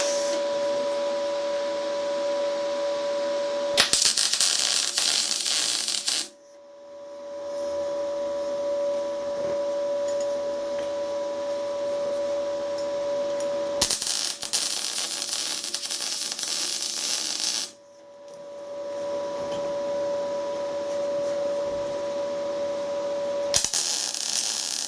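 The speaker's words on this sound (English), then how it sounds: "I'll get a couple of tack welds onto that." Tack welds going onto a metal part during a repair job: three loud, steady crackling bursts, each lasting a few seconds, separated by quieter stretches with a constant hum.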